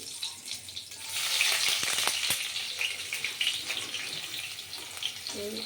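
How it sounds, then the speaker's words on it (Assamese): Onions hit hot oil seasoned with panch phoron and a bay leaf, and a bright, steady sizzle swells after a second and keeps hissing evenly at moderate volume. "এতিয়া মই পিঁয়াজখিনি দি দিম"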